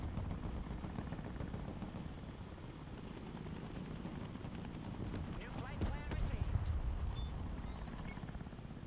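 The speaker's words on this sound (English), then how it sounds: "Tiltrotor aircraft here." Tiltrotor aircraft flying in the Broken Arrow video game, a low steady rotor drone with a brief swelling whirr midway, mixed under battle ambience and a voice talking.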